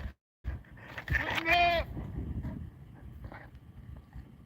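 Homestead goats bleating on a cold morning, one loud, wavering bleat up close followed by a softer second call, with wind rumble across the microphone.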